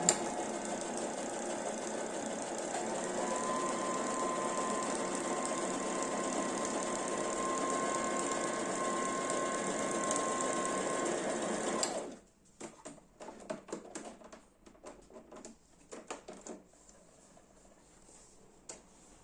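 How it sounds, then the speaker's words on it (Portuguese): A sewing machine runs steadily, stitching quilted fabric with a continuous fast whir and motor hum for about twelve seconds, then stops, followed by scattered soft handling clicks and rustles of the cloth. "eu vou fazer a costura do outro lado para formar o matelacê"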